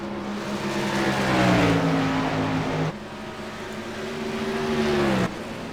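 Race cars in a sim racing video game drive past, their engines a sustained whining drone that rises in pitch and then cuts off, twice in succession, fairly loud and without talk.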